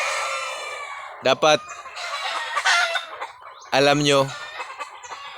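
Hens cluck and one cackles in a farm coop, answered by a rooster's loud nearby crowing in two bursts, while someone talks quietly between the calls.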